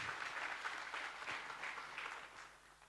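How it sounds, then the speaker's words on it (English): Applause from an audience at a thought-leadership panel event in Limpopo, a steady patter of clapping heard at moderate distance that gradually thins out. "A round of applause to our panelists."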